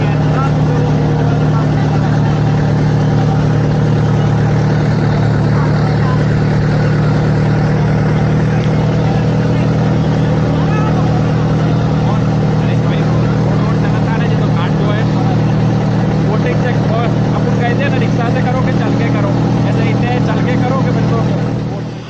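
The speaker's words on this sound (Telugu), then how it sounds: "మెయిన్ శివ టెంపుల్కి చిన్న బోట్లో వెళ్తున్నాము" A small motorboat engine drones steadily on the river toward the main Shiva temple near Varanasi, a loud, close, unbroken low hum lasting throughout, with voices and chatter faintly beneath it.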